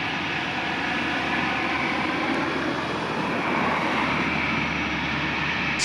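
An Air France Airbus A321 taxis to the runway at an airport, giving off a steady, moderate jet engine rumble and whine from a middle distance. No one speaks.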